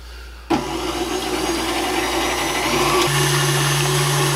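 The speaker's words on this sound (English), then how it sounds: "we're just going to beat our eggs on high speed here for about 30 seconds" An electric mixer runs on high speed beating eggs for lemon blueberry muffin batter, switching on with a sudden jump and then holding a loud, steady whirring drone with a rising tone near the end, and no talking over it.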